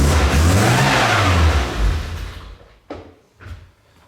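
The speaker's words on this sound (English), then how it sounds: "Idling a little bit fast," A classic car engine idling fast, a loud steady rev that swells and then drops away, followed by two short thuds like a door closing.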